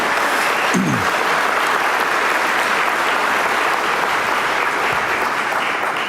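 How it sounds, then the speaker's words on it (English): A large audience at a Heritage Foundation event applauds steadily throughout, a loud continuous wash of clapping with no break. "Aaron, how about another round of applause for Aaron and his team?"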